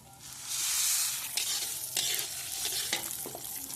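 Sweet lentils tipped into hot oil with panch phoron spices: a loud hissing sizzle surges as they hit the pan, then settles into steady frying broken by scraping stirs, close up and without talk.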